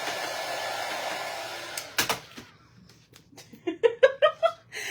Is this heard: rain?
no